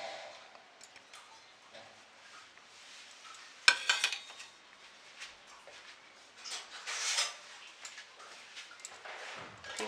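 Fish being mixed by hand or spoon with turmeric, red chilli and salt in a bowl, with soft scraping and light clinks, including a sharper knock near the middle.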